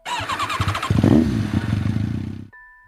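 A motorcycle pulls up close by beside a small shop and idles with a steady throbbing putter before the engine cuts off abruptly, leaving a faint tonal hum.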